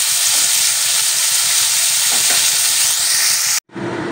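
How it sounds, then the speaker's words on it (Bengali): Prawns with salt and turmeric fry in oil in a wok, giving a loud, steady, close sizzle that runs unbroken for several seconds before cutting off abruptly, then resumes more faintly. "আপনাদের সামনে চিংড়িগুলো তেলের মধ্যে দিলাম, নুন আর হলুদও দিয়ে দিয়েছি।"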